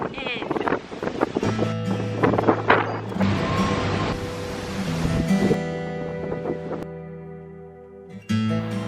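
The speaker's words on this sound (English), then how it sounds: "It's so windy here." Strong coastal wind buffets and roars across the microphone in gusts at Port Townsend, Washington, with water and boat noise mixed in and a voice talking over it.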